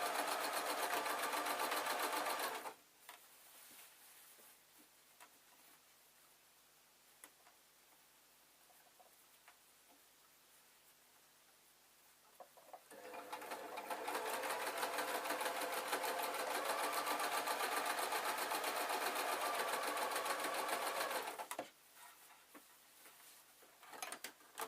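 A sewing machine stitches through the lining and outer fabric of a beaded clutch bag in two long, loud, rapid bursts separated by a quieter pause with faint ticking handling sounds.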